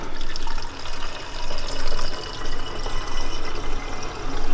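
Water runs and pours steadily with a bright, splashy rush that swells and dips over several seconds, fairly close, with no voices.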